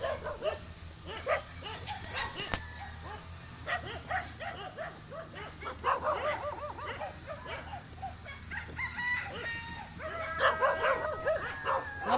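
Several dogs bark and yip repeatedly at moderate distance on a farm, some whimpering, in irregular overlapping bursts against a faint outdoor background.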